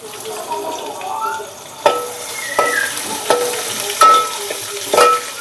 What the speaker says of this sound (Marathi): मस्तपैकी आता कांदे हळूहळू भाजत आहे